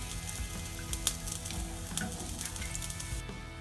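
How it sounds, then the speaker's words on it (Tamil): Milk boiling in a pan for a rasagulla recipe gives off a steady, soft bubbling sizzle with faint pops, heard close and alone. "பாருங்கள், நம்ம பால் நல்லா கொதிச்சிச்சு."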